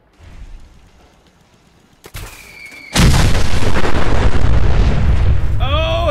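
A nuclear detonation in Fallout 4 on a settlement, opening with quieter rumbling before a sudden massive roaring blast that sustains loud and dense to the end, with a high whistling tone layered in near the close.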